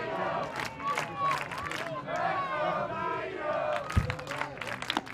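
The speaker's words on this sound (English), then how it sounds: "Listen to this crowd." Dense stadium crowd noise at a Cape Cod League summer baseball game, Hyannis Harbor Hawks vs. Bourne Braves, a loud sustained roar of cheering and shouting voices throughout with a sharp thud near the end.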